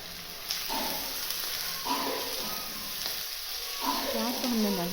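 Finely chopped onions are frying in about half a cup of oil in a pot, giving a soft, steady sizzle with a few brief clinks of a spoon stirring, heard close but fairly quiet.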